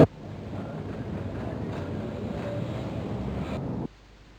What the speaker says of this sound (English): This tram used to run in Glasgow.